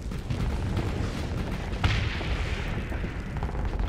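Missile explosions during a large fleet battle in the space game Starsector, a dense, continuous rumble of overlapping booms and blasts with one sharper burst midway, loud throughout and without talk.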